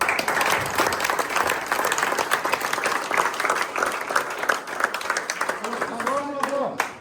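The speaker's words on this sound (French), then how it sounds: "qu'on les applaudisse très fort" Loud, dense audience clapping at an awards ceremony, sustained and fairly close, with a voice rising over it in the final second.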